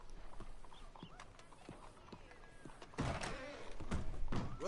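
Horse hooves clip-clop in a western-style game, scattered near thuds on a hard surface, then heavier clustered steps and knocks toward the end, with faint ambient noise underneath.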